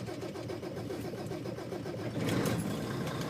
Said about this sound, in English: Go ahead and start the truck.